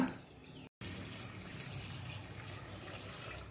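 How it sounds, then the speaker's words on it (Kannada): Water pours steadily into a pressure cooker holding rajma, jackfruit seeds, chopped ginger and garlic for a Mangalorean curry, a close, continuous splashing rush with one brief break near the start. "ಅದಕ್ಕೆ ಮುಳುಗುವಷ್ಟು ನೀರನ್ನು ಹಾಕೊಳ್ಳೋಣ"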